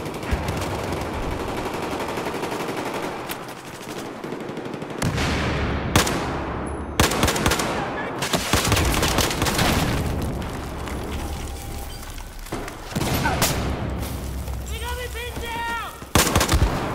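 Battlefield 4 combat on the Operation Locker map: rapid bursts of gunfire, heavy booms and rocket launcher explosions hit repeatedly and loudly, with occasional speech underneath.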